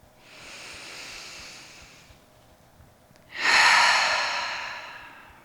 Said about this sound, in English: And we'll breathe in together.